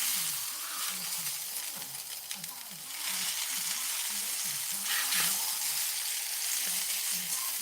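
Butter sizzles steadily on a cast iron griddle, a close, continuous crackling hiss with low scraping or stirring underneath and no talking.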